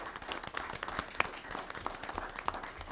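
An audience at a city council meeting gives brief, soft applause, scattered claps with a few sharper ones standing out, quiet and somewhat distant.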